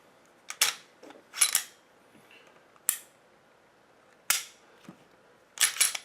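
Sharp metallic dry-fire clicks from the trigger of an FN FNS Longslide pistol, several separate snaps spaced irregularly, some in quick pairs, close and crisp with quiet gaps between.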